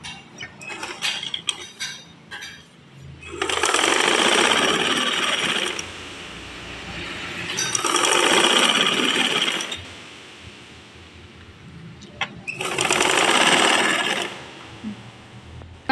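A sewing machine stitches the folded side of a churidar back neck piece onto the garment in three separate loud, whirring bursts, with quieter handling clicks and pauses between them.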